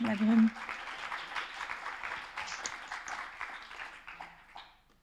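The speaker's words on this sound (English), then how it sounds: "Maybe once again a round of applause and congratulations for the students for this project." Students receive applause after presenting their game project at a school defence session, a steady spread of clapping from a seated audience that fades out gradually over several seconds, with a brief murmur of voices at the start.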